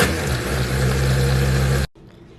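A blender runs loud and steady as a milkshake with cookies and chai is blended again, then shuts off suddenly, leaving a faint room tone.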